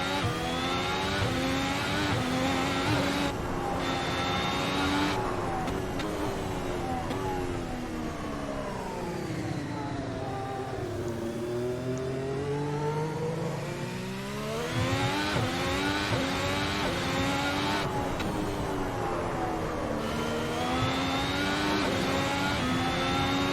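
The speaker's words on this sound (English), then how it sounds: "I'll just rev it up and then we'll get going, and I'll let the car do the talking for a couple laps." A Ferrari SF90H's engine in the Assetto Corsa racing game revs and climbs through gears, its pitch sweeping up and down continuously with loud, close engine tone and no talking.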